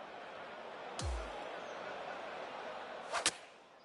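A sharp swishing strike of a club hitting a ball, then a second quick crack a couple of seconds later, over a faint murmuring crowd ambience.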